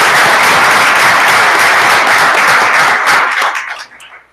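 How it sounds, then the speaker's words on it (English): Audience at a school board meeting breaks into sustained applause, a dense wash of clapping that holds steady for about three seconds, then thins and fades out at the end. "So I'd like to give a round of applause for Pete's work."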